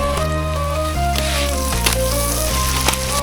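Prawns hit hot oil spiced with garlic, ginger and cumin pastes and salt for a chingri malai curry, giving a steady close sizzle under faint background music and a few light clatters.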